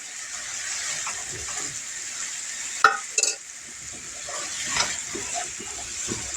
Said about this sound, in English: I'm going to get this butter hot